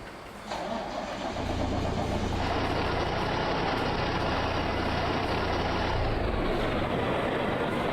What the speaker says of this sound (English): Let's go ahead, start up the truck